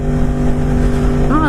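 V8 car engine rumbling loudly up close as it passes, a deep steady drone with a brief rising rev near the end, voices faintly under it.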